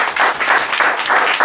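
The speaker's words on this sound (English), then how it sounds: "Can we give him an applause?" Brief audience applause at a literary magazine's anniversary celebration, loud close clapping with a pulsing rhythm over about a second and a half.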